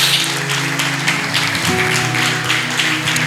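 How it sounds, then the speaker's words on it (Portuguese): A church congregation applauds steadily during a worship service, a dense wash of clapping over a sustained musical drone throughout. "Uma salva de palmas ao Senhor"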